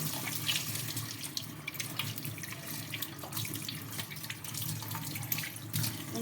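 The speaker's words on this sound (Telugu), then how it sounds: "వాటర్ వేసి ఇంకా కడిగి చూపిస్తానండి మీకు." Tap water runs steadily into a kitchen sink being rinsed after an acid-free cleaning, a continuous close splashing flow for the whole stretch with no voices.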